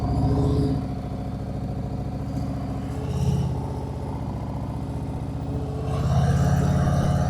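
A motorcycle engine idles with a steady low throb close by, giving a few light revs as the clutch is worked in first gear for a slow pull-away.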